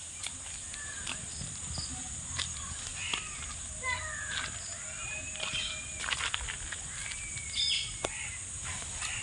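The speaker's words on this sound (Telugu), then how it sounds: "క్రోస్ క్రోయింగ్" Crows caw at a distance in a village at sunset, mixed with scattered chirps from other birds and a steady insect hum in the background.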